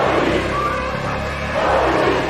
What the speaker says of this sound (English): A chase ensues until Mady gets into a crowd of protesting people.